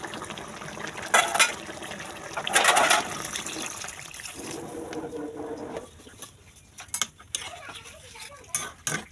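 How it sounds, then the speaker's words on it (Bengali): Water poured into a pan of hilsa fish curry after the fish has been sautéed, heard as bursts of splashing and pattering with trickles and small clatters in between, moderately loud and close, with no voices. "এবার আমরা পরিমাণ মতো পানি দিয়ে দেবো"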